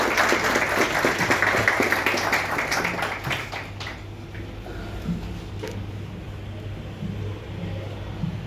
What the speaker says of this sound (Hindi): तालियों से उनका स्वागत करें प्लीज।